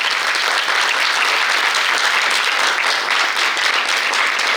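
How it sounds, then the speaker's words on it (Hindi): Loud, dense applause from a theatre audience after a drama performance about Laxmi Bai, continuous clapping from many hands at close range with no letup. "संघ रत्ना बनकर जी के लिए एक बार जोरदार ताली।"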